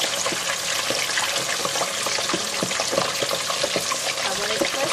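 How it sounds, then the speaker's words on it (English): Fish sizzling in hot oil in a pan, a dense steady crackle and spatter with scattered pops, close and constant. "So now I'm going to fry the fish and then make the sambal."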